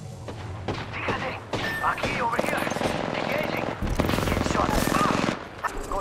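Rapid gunfire from an auto shotgun in the Apex Legends video game, a dense run of repeated blasts sustained through most of the stretch, with a brief voiced game line alongside.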